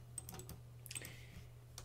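A few quiet computer keyboard keystrokes at a Linux terminal, scattered soft clicks with a pause between bursts over a low steady hum, no talking.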